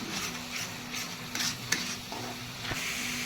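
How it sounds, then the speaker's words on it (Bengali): Spices fry in a pan for a katla fish kalia, a steady close sizzle broken by a few scraping stirs and light clinks. "একেও আমি 2 মিনিট ভেজে নেব।"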